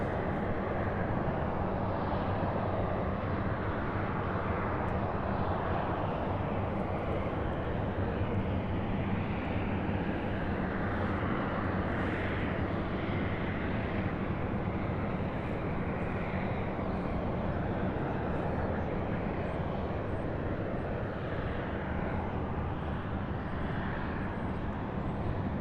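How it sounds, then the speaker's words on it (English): A C-130 turboprop military transport taking off at Louisville International Airport, a steady, distant engine roar held at an even level for the whole stretch, with no talk. "the C130 now cleared for takeoff since that A320 got out of the way"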